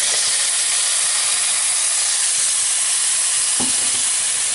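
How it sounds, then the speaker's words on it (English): Mushroom risotto simmering loudly with stock just added, a continuous close hiss and bubbling with faint stirring scrapes and a brief clunk near the end. "I'm going to add in a little bit of stock"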